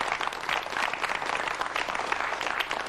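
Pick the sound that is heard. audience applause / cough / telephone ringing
audience applause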